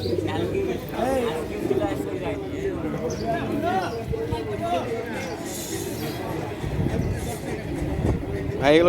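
Pigeons coo repeatedly in a crowded pigeon market in Rajshahi, their low warbling calls overlapping under near, continuous conversation between people.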